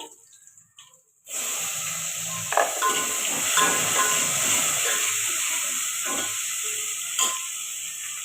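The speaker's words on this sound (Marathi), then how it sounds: "आता आपण टॅमॅटो टाकू" Tomatoes hit hot oil with mustard-seed tempering in a home kitchen, setting off a sudden loud, steady sizzle that hisses continuously close by after a brief quieter moment.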